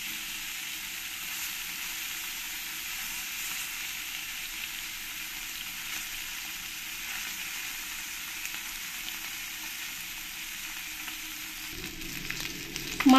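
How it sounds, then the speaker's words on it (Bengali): Shol fish (snakehead) frying in hot oil, a steady, even sizzle that holds throughout with no talking, briefly rising in a louder clatter at the very end. "মাছগুলোকে ভালো করে আমি এপিট ওপিট করে ভেজে নেব। বেশ লাল লাল করেই মাছগুলোকে ভেজে নিতে হবে।"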